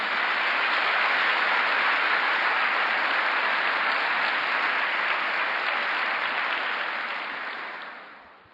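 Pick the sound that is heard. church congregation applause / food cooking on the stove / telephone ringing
church congregation applause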